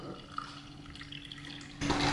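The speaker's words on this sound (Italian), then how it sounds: "a questo punto ci versiamo il tè verde zuccherato" Sweetened, cooled green tea is poured over ice and mint leaves for homemade iced tea, a soft trickle at first, then a louder splashing pour in the final half second.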